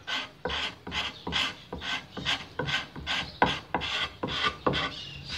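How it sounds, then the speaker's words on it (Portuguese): Pencil marks being erased from a timber beam while laying out a hip rafter joint on a wall plate: about a dozen rhythmic, fairly loud rasping rubs in steady back-and-forth strokes, close up, with no talking. "Vai apagar um pouco desses riscos aqui"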